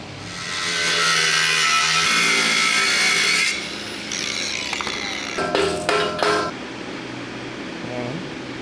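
A power saw cutting a metal part for a 7.5 cm StuK 40 L/48 gun mount in a workshop, a loud sustained whining cut of about three seconds, then quieter scraping, clanks and handling noises.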